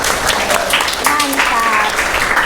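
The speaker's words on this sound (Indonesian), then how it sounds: "tepuk tangan untuk kalian semua" Students in a classroom applaud steadily throughout, a dense wash of clapping with voices audible underneath and no pause.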